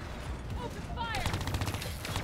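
Rapid automatic gunfire from the Call of Duty: Black Ops 3 video game crackles in dense bursts through the second half, loud and close, following a brief game voice and laid over steady game background.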